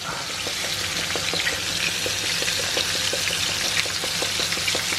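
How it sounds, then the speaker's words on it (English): Cod and sauce simmer in a frying pan with a steady, close sizzle and scattered small bubbling pops, and no voices. "the sauce is just simmering away"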